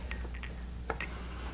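Faint clinks and light knocks as a cast iron pan and other kitchen items are shifted around, a few brief taps scattered over a quiet background hum.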